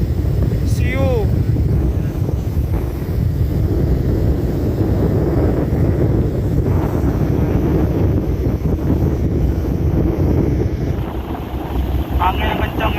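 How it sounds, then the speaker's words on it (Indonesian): Strong wind blasts across the deck of a boat bound for Bawean, roaring loud and continuous against the microphone with the vessel's rumble beneath, and a brief high whistle or bird-like chirp cutting through early on. "Angin kencang"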